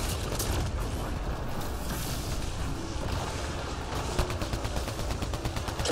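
Weapon fire in the video game Mass Effect Andromeda, sustained rapid gunshots and booming impacts packed into a loud, unbroken battle din.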